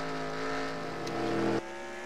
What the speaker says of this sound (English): These cars are roughing it up and toughing it up on this road course